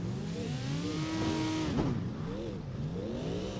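A drift car's engine in the CarX racing game revs and wails continuously, the pitch rising and falling through throttle blips with a sharp flare midway, loud and steady throughout.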